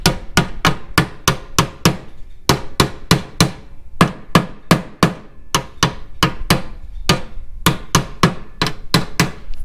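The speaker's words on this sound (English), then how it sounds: "So we're gonna hammer this down and straighten it out as best we can." A hammer strikes a bent Cadillac SRX body panel in a quick steady rhythm, about two to three sharp metallic blows per second, loud and close, with short pauses between bursts.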